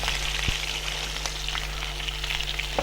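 Onions fry in oil with ginger-garlic paste for chilman biryani, making a steady close sizzle with a few faint clicks from the pan.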